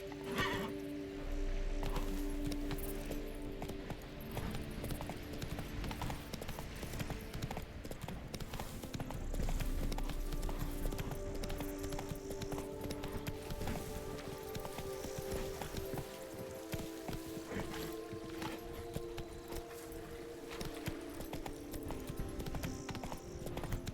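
A horse in a Witcher Blood & Wine video game gallops with steady rhythmic hoofbeats and snorts, whinnying loudly near the start and again partway through, over faint game ambience.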